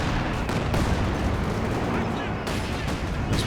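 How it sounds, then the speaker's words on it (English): Mortar and artillery fire in Company of Heroes 2 during a 2v2 match, heavy booming blasts and rumbling impacts packed into a constant battle din, with a voice talking under the noise. "This mortar's still just such a thorn on the side of the Axis."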